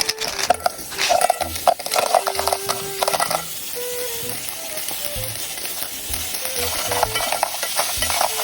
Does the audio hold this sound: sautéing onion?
yes